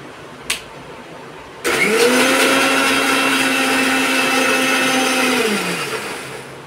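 An electric blender whirs through boiled eggs, oil and sugar for homemade mayonnaise, starting abruptly after a small knock, running loud and steady for about four seconds, then winding down.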